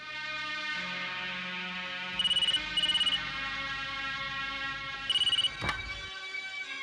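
A telephone rings in an office with an MLA's call, three short electronic trill bursts sounding over a steady background hum, followed by a brief click.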